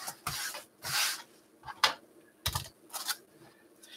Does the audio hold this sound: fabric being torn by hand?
yes